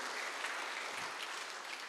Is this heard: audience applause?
yes